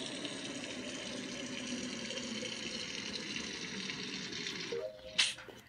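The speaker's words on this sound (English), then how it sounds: "All that water is making me thirsty." Water runs steadily from a tap-like source during a task in the video game Among Us on the Polus map, a continuous close hiss that stops near the end with a brief clatter.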